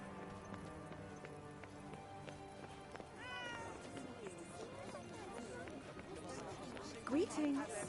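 A cat in the video game Forspoken gives a couple of short meows amid running footsteps and game ambience, while a person talks over the scene.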